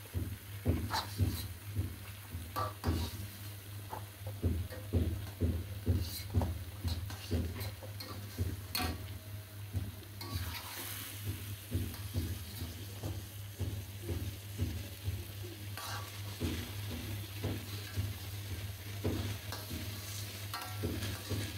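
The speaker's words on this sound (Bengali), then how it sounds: "হালকা একটু শিং মাছ কষিয়ে নিই" Singi catfish frying in a pan, a steady sizzle with repeated scraping stirs at an even rhythm throughout, close and moderately loud, with no talking.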